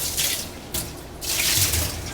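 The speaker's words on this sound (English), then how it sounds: "Fill it up with water." Tap water runs into a water pitcher in a kitchen sink, rushing in uneven bursts that start and stop over a couple of seconds, with no talking.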